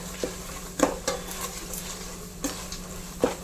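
A spoon clinks and scrapes in a pan as Kashmiri chili powder is stirred into hot oil, with a few sharp metallic taps over a faint low hum, close up and fairly quiet.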